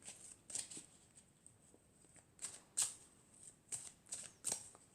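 Oracle cards being shuffled by hand in a series of short, crisp riffling bursts at an irregular pace, close and fairly quiet, with no talking.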